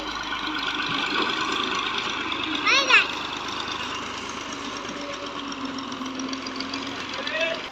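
A tractor engine chugs steadily while manoeuvring with a trolley attached, a continuous mid-level rumble with voices, including a child's, heard over it.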